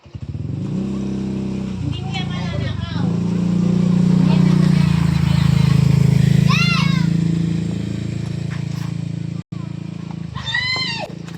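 A motorcycle engine swells as it approaches and passes, a low droning rumble, while children shout and chatter nearby.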